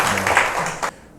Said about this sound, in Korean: 박수를 좀